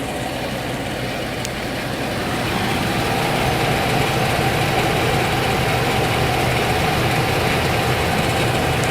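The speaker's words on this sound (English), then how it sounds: "so we've started up the engine" A GM OBS truck with a Vortec 5.0L or 5.7L V8 idles steadily with a low, even rumble and continuous mechanical hum, close and moderately loud with no talk over it.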